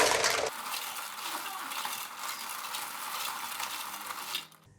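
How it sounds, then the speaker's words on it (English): Lala clams being washed by hand in a basin of water, a close, continuous clattering of shells rubbing and knocking together with wet swishing, after a short rougher burst at the start. "Alright, we just need to wash it like that."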